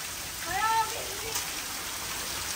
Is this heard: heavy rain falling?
yes